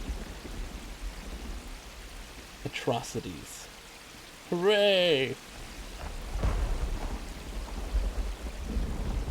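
Rainfall and distant thunder in the PC game Myst Online: Uru Live form a continuous hiss beneath a man's brief spoken remarks, with a short louder burst midway.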